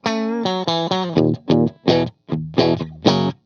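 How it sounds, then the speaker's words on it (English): A Gibson electric guitar with P90 pickups on a clean tone, picked chords ringing close and loud, some held and others cut short in a rhythmic stop-start pattern, with no talk. "Here is what this guitar sounds like with just the cleans."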